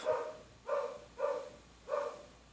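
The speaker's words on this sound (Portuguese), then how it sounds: "É o cachorro, gente, do vizinho" A neighbouring dog barks four times at a steady pace, the barks moderately loud and a little distant, with a quiet indoor room around them and no talking.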